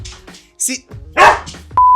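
A Siberian Husky lets out a few short barks and yips mixed with a person speaking, ending in a steady electronic tone.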